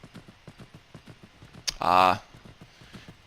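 Horse hooves clip-clop in steady rhythm while riding toward Solitude in the video game Skyrim, close and moderate in volume. A burst of loud noise cuts in briefly midway, and a voice speaks a single word.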